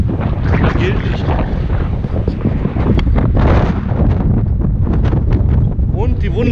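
Strong wind buffets the microphone on the Halde Hohewart spoil-tip summit in a continuous loud, rumbling roar with gusty surges throughout.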